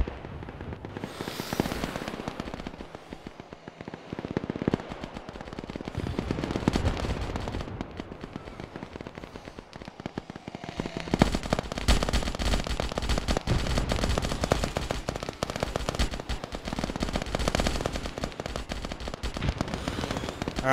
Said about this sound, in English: We're taking very close RPG fire.